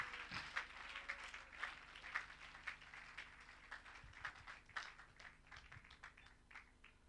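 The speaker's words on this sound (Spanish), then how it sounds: "Dele un aplauso a Jesucristo el Señor en esta hora" A church congregation gives applause to Jesus Christ during a service, a faint, steady patter of many hands clapping heard from a distance throughout.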